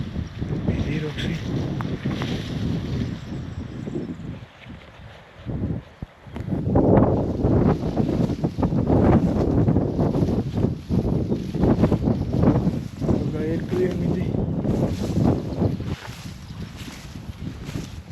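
Strong wind roars and buffets the microphone aboard a sailboat, with water and hull noise beneath it. The wind is loud and steady, eases briefly midway, then surges again, with voices faintly underneath.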